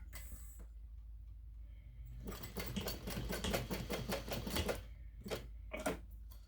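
A sewing machine bastes the folded raw ends of fabric together with a 1/8 inch seam allowance for an ID pouch: a quick run of rapid stitching lasting about two seconds, followed by a few short separate clicks.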